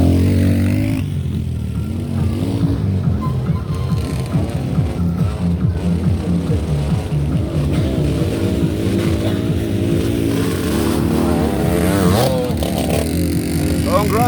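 Large motocross motorcycles in an open production race at a festival competition, engines revving and droning loudly with rising and falling pitch as they pass, under an announcer's voice over a PA.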